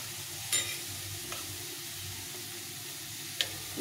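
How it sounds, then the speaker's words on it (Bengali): A ginger, cumin, chili and coriander paste stir-fries in a pan with a steady low sizzle, broken by a few sharp clinks of a utensil against the pan. "এখানে আমি বেটে রেখেছি আদা জিরে লঙ্কা ধনে, পেস্ট করে রেখেছি"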